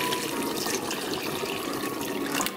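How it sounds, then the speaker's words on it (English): Water pours steadily into a pot of cooking potatoes for a potato, chile and bean dish, a dense continuous splashing rush that stays close and loud for a couple of seconds before easing off. "I'm going to grab some water and I'm going to pour it in there."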